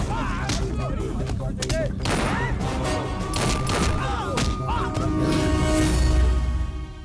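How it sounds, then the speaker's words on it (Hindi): Gunfire breaks out at a party in a Hindi-dubbed South Indian movie scene, with repeated loud shots and crashes mixed with shouting voices and a dramatic musical tone. "यहाँ पार्टी में फायरिंग हो रही है"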